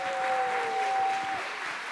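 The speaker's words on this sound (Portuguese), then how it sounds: "Eu quero que vocês acolhem com uma salva de palmas Carolina" A church congregation claps to welcome a missionary, a dense steady wash of applause filling the room for a couple of seconds with a faint tonal hum running beneath it.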